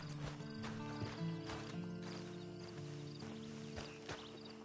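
A horse's hooves clip-clop in a video game, irregular thuds on a hard surface over a steady hum of background music.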